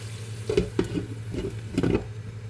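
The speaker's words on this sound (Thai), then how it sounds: "เดี๋ยวก็ใช้น้ำนิดหน่อย เดี๋ยวก็ปิดฝาไว้นะคะ เพื่อที่จะให้ผักสุกง่ายๆก่อนนะคะ" Vegetables cooking in a pan with a little water: a steady close hiss of sizzling and bubbling with a few soft stirring knocks and scrapes over about two seconds.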